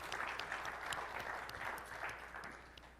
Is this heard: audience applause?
yes